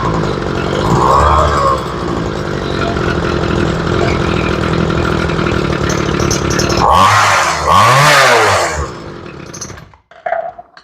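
A Ryobi weed eater's small two-stroke engine idling roughly, starved of fuel at idle after a carburetor and fuel line replacement, running loud and close, then surging and sputtering before it cuts out.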